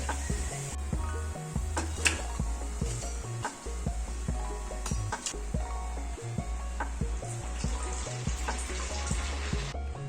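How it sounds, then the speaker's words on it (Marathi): Sabudana vada fry on their second side in oil, a continuous close sizzle with scattered pops and crackles and occasional clinks throughout. "आता दुसरी बाजू परतायची परतून दुसरी बाजूही तळून घ्या"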